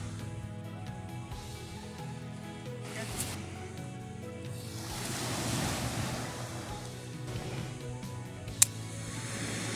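Surf rolls onto a beach at Windward, Carriacou, a broad washing rush that swells midway under steady wind noise, with a low engine-like hum and a sharp click near the end, no talk.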